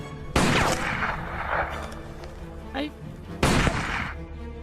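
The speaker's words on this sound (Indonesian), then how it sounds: "Zarin lalu melatih Husain membidik target di sebuah tempat latihan menembak" Rifle shots at a shooting practice range: two sharp, loud blasts a few seconds apart, each with a rumbling tail, plus a fainter thump between them, set against steady background noise.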